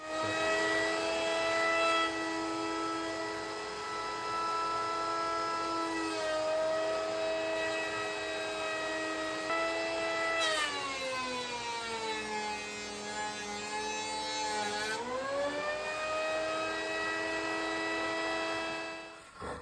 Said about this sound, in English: So I'm just going to go ahead and joint the whole board.